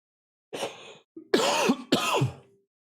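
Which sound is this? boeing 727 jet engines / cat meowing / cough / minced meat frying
cough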